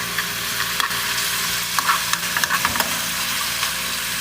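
Indomie instant noodles with tomato paste and sweet soy sauce are stirred in a hot pan, a steady sizzle with irregular scraping and clicking of the utensil against the pan, close and without talk.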